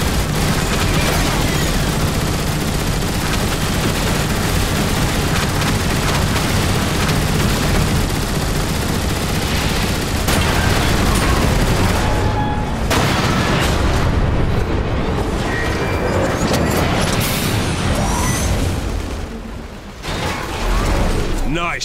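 Dense, continuous gunfire and booming explosions erupt in the Transformers: War for Cybertron video game as fire is focused on a Decepticon warship, with loud mechanical clatter sustained throughout.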